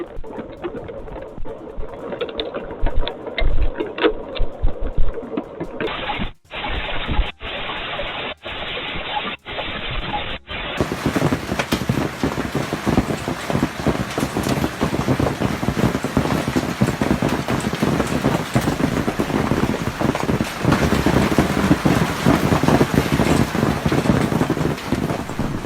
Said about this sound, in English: Hail suddenly pounds a station in Fairfax